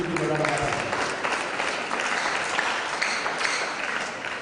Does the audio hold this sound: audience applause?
yes